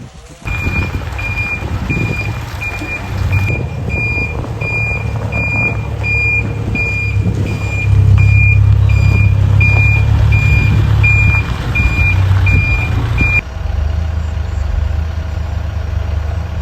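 Soil delivery truck reversing, a steady high reversing beep repeating over a loud idling diesel engine rumble that swells midway, then the beeping stops as the engine keeps running.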